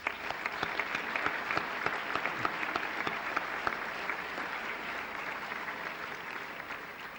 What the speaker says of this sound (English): Please, a special applause.